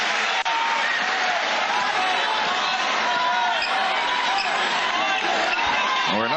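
A packed overflow crowd roars inside an arena during a 1989 San Miguel versus Purefoods basketball game, dense continuous cheering with a commentator talking over it.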